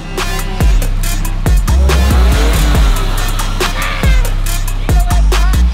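A car fitted with giant tractor wheels revs hard while climbing a dirt mound, loud, close engine roars surging and dropping in repeated bursts.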